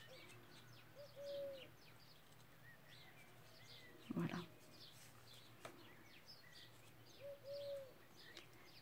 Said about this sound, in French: Vous entendez les tourterelles?